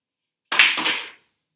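A JFlowers pool cue fitted with a Mori medium tip strikes the cue ball for a draw shot: one sharp close click, followed by a brief clattering ball contact that fades out.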